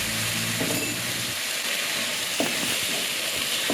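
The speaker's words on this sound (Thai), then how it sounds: "ผัดไปเรื่อยๆนะคะจนเครื่องแกงได้กลิ่นหอมนะคะ" Curry paste pounded with shrimp paste being stir-fried with a splash of water in a pan, a steady sizzle with occasional scraping stirs, close and continuous with no talking.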